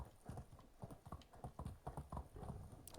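Horse hooves clip-clop in a steady walking rhythm in Medieval Dynasty, close and fairly quiet over soft outdoor game ambience with no talking.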